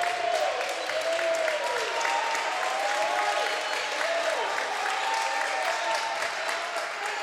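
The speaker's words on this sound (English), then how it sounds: "St. Agnes over here clapping it up." Spectators at a high school boys' basketball game between St. Agnes and Maranatha clap steadily throughout, a continuous crowd rattle in a gym, with a squeaking tone sliding underneath like sneakers on the court.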